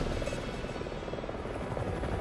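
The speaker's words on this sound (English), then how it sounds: "I'm in a helicopter shooting helicopters." A helicopter in the Resident Evil 6 video game sounds as a continuous, dense rotor and engine roar, a steady rumbling chop that fills the short moment without any break or voice.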